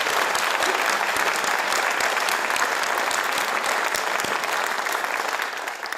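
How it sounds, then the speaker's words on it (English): Loud, sustained audience applause for Teesside mayor Ben Houchen at a Conservative leadership hustings, dense clapping from a packed room that holds steady and eases off slightly at the close. "Let's give Ben a big round of applause"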